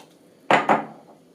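Two quick hard clatters of a utensil against a mixing bowl while churro dough is being mixed, close and fairly loud, followed by quiet.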